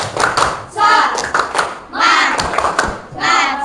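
A group claps a rhythmic cheer chant in bursts, with sharp hand claps and some voices joining in, close and loud.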